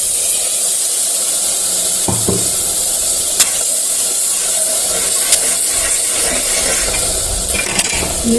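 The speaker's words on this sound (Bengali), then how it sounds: "দিয়ে দিচ্ছি অল্প একটু গরম জল, যাতে মশলাটা পুড়ে না যায়।" Hot water poured onto spices frying in a pan for a jackfruit seed dish, producing a loud, steady hiss and sizzle with a few faint utensil clicks throughout.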